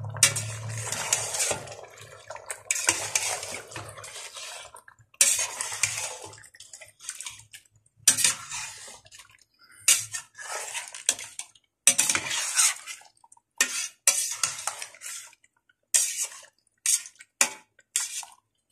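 Tomatoes and green chillies stirred and mixed in a cooking pot for a spicy chicken curry, with repeated scraping and clinking bursts of utensil against metal in an irregular rhythm, close and fairly loud, with short pauses between strokes.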